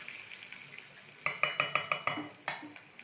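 Small onions sautéed in a pan for a keerai kadaiyal dish: a quiet opening, then a run of about seven sharp, evenly spaced clinks of a spoon against the pan, near and distinct, with a final tap and a faint sizzle under it. No talk.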